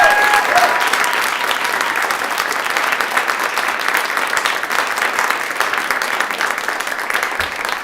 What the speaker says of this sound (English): can we please give them all a round of applause again?